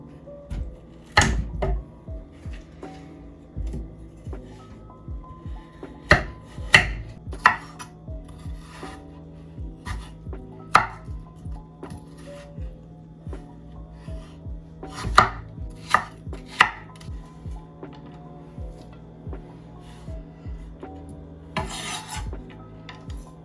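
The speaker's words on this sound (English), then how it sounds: "Next, we're gonna cut our carrots." A knife chops carrots on a cutting board while kimchi is being made, giving irregular bursts of sharp, close strokes with short pauses between runs, and no talking.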